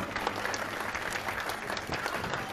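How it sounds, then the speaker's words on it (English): Parents and guests at a school sports day applaud the children lined up in their tracks, a steady patter of many hands clapping without a break and without voices on top. "Shall we give a big round of applause for them?"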